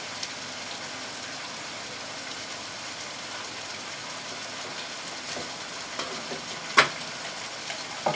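Onions laid over beef in a hot pan for beef broccoli noodles give a steady, even sizzle with a few faint clicks and knocks near the end, no talk.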